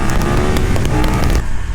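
A motorcycle rides in first gear, its engine a loud, close, continuous rumbling drone with a rough crackling texture that eases slightly toward the end.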